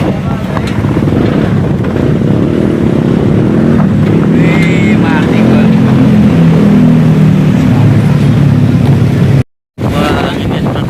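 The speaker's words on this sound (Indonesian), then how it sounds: "ini anginnya semakin gede" Strong wind in Jakarta, a loud continuous rush and buffeting against the microphone with a steady low rumble, while a person talks faintly and a brief dropout cuts in near the end.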